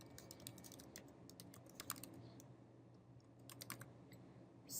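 Typing a title on a computer keyboard: a run of light, close key clicks in uneven bursts and pauses, quiet and alone without speech.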